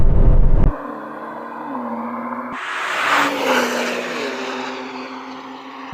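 Two cars from different generations drag race, one shifting through a DCT gearbox: loud, close engine notes climb and drop in quick stepped gear changes, alone without talk.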